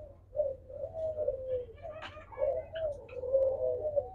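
Diamond doves on a dove farm coo in soft, repeated, close-up phrases over a quiet low hum, with a few faint higher chirps mixed in.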